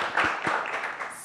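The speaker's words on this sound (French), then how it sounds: "J'aimerais qu'on applaudisse." A studio audience applauds during a French-language talk show interview with writer Joseph Ndwaniye, a brief burst of scattered clapping at moderate distance, fading quickly.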